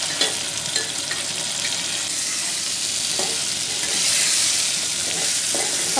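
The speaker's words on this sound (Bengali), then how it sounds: "এবার আমি ভেজে রাখা ডিমগুলোকে দিয়ে দিচ্ছি।" Fried eggs going into a pan of sizzling spice masala for an egg curry, a steady loud frying hiss with occasional stirring scrapes throughout, no talking.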